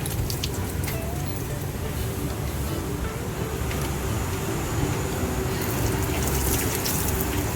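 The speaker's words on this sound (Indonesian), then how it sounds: "Jangan lupa cuci tangan dulu ya guys." A tap runs steadily for hand washing at a family-style restaurant's outdoor dining area, its continuous watery rush filling the whole stretch with background clatter and no talking.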